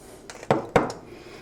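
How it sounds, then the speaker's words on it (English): A couple of sharp clatters and taps ring out as butter goes into a cornbread pan for Savannah-style cornbread, close and distinct against a quiet kitchen background. "I'm going to add my butter"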